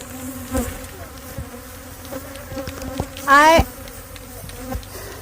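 Bees buzz around a cluster of bee boxes outdoors, a steady hum close by, with one insect zooming loudly past the microphone partway through.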